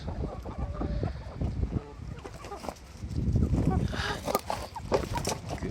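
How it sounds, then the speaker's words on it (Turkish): Several chickens cluck and murmur nearby in a busy, overlapping flock, with rustling movement and a brief voice in the background. "Benden yem istiyor tavuklar."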